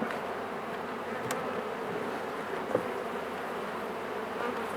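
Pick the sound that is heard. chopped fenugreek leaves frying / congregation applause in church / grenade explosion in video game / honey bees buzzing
honey bees buzzing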